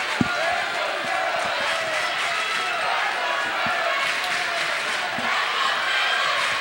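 Crowd noise fills a close girls' basketball game in its final minutes, a steady loud roar of fans with sharp ball bounces and shoe thuds cutting through, and voices mixed into the din.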